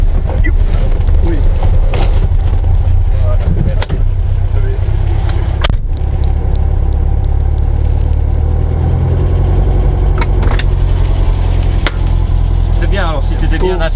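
Air-cooled engine of a 1969 VW Beetle idling, a steady loud low chugging rumble with a few knocks and clicks, close by, while voices speak over it.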